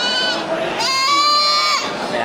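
A single kacang goat gives one loud, close, wavering bleat that swells through the middle and then trails off.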